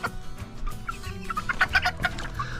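Cochin bantam chickens in a backyard flock cluck repeatedly in short, irregular bursts, with several birds calling close by and no talking.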